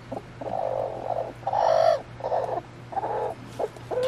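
Backyard chickens cluck close by in a series of short, separate bursts of varying length, with a low steady hum underneath and no talking.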